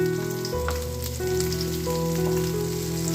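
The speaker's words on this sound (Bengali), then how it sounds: "মাছ ভাজা বসে দিয়েছি মাছ ভাজছি দেখো" Pieces of catla fish fry in hot oil, giving a soft steady crackle under a droning steady hum that runs through the whole stretch.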